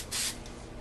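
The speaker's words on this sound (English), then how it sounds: "if you spray your measuring receptacle with cooking spray first" Cooking spray hisses into a measuring cup in a kitchen, one short close aerosol burst of about a fifth of a second, with quiet room noise before and after.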